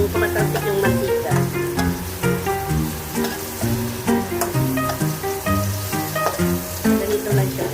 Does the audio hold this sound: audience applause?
no